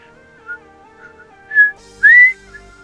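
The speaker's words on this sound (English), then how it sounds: "I'm whistling music while you're playing music" A person whistles a tune close by, clear pure notes that hold and slide, growing louder toward the end.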